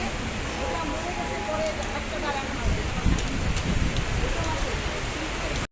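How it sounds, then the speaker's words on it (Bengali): Steady rain falls at an outdoor tree fair, heard from a covered veranda as a continuous, even hiss with a few louder patters and voices mixed in. "এই বৃষ্টির মধ্যে ভালোভাবে দেখতেও পাচ্ছি না"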